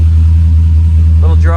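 A C4 Corvette V8 engine idles at startup with a steady, loud low drone and a slightly uneven, untuned tone, while someone talks briefly over it near the end.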